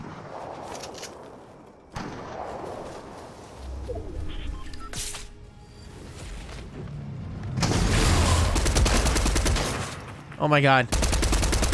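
Close, loud gunfire bursts during a Fortnite match as a player shoots an opponent, with a heavy rattle building near the end, mixed with ambient game sounds and a brief exclaiming voice.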